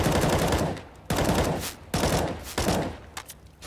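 Spammed gunfire in the CS:GO video game, four loud bursts of rapid shots with short gaps between them, close and unbroken by speech.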